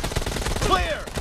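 Gunfire in PUBG Mobile team deathmatch crackles in rapid bursts, mixed with game effects and a short rising whine, fairly quiet and busy.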